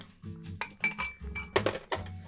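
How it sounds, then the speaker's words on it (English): Two ice cubes drop into a frozen old-fashioned glass holding tequila reposado, giving a quick series of close, sharp clinks and knocks of ice against glass that ring briefly and fade. "Then two ice cubes."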